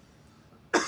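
A single sudden, close cough from someone with something caught in the throat, bursting loudly after a quiet moment.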